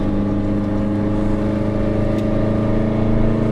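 Honda S2000 engine driven gently on a race track, heard from inside the car as a steady, loud, droning hum with strong low harmonics and little change in pitch.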